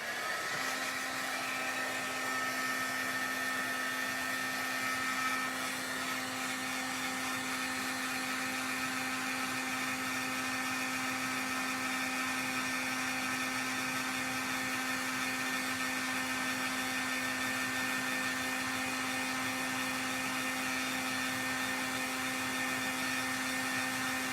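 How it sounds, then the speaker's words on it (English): A steady, loud whirring blast of hot air from a small embossing heat tool, with a constant hum running unbroken for the whole stretch. "it's going to get just a tad bit noisy here while I turn on my heat tool"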